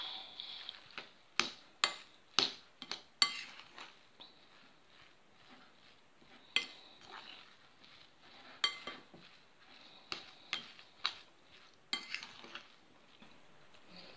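A spoon clinks and scrapes against a bowl while minced beef filling is mixed with parmesan for tortellini, in repeated sharp knocks in uneven bursts with quiet scraping between them.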